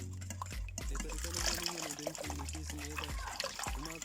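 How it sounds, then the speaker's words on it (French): Milk pours into crêpe batter in a light, steady trickle of liquid, partly masked by voice-like sounds running through the whole clip. "Je rajoute du lait."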